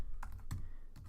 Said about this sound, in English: I'll just type in something